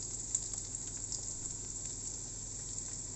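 Steady, quiet sizzling of black-eyed beans and vegetables frying in palm oil in a pan, a continuous soft crackling hiss with faint pops and no talking.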